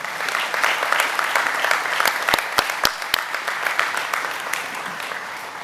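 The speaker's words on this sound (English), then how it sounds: "Let's give him a round of applause." Sustained applause fills a high school graduation ceremony, a broad wash of many hands with a few sharp, close claps standing out near the middle before it gradually eases.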